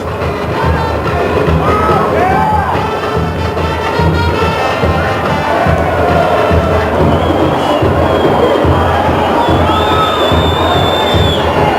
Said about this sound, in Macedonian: и покрај музиката се слушаат аплаузи